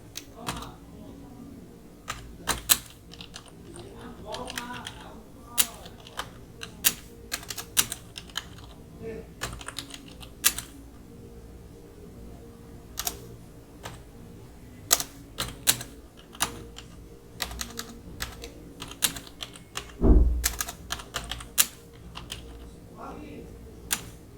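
Typing on a computer keyboard while filling in a web developer CV portfolio section, a steady run of close, crisp key clicks in irregular bursts with occasional louder thumps.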